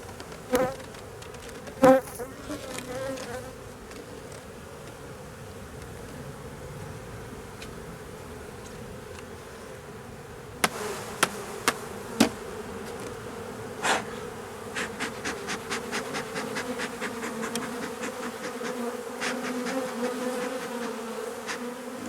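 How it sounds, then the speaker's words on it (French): A steady, dense drone of honeybees buzzing close by at an open hive as a beekeeper shakes them, with a few sharp knocks and clicks partway through and a busier, crackling hum toward the end. "Là les abeilles qui sont là, je vais les secouer."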